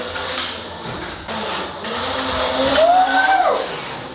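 A Nilox Doc Pro electric scooter pulls away and speeds up, a rising electric motor whine sweeping upward in pitch over a few seconds, close and fairly loud with some rolling noise.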